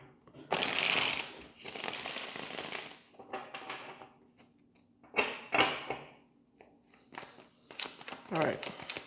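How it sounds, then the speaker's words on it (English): Repeated bursts of cards being riffled and shuffled, close and fairly loud, with short pauses between shuffles and brief speech-like sounds mixed in. "Now all the cards are upright before I shuffle."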